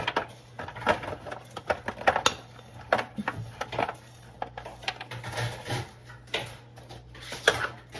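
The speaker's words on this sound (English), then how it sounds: "So I'm gonna go ahead and just throw them out on the sheet." Candied pecans being tossed onto a baking sheet, a run of close hard clattering taps and small rattling bursts spread irregularly across the stretch, without talk.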